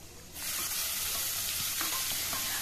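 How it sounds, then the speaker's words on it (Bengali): Spices and chopped onion hit hot oil on a high flame, and after a short quiet moment a loud, sustained hiss of frying begins with faint stirring underneath. "এবারে সব কিছু একটুখানি ভাজা ভাজা করে নেব, জাস্ট কয়েক সেকেন্ড।"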